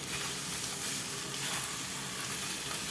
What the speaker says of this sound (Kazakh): Жақсылап қуырып отырамыз.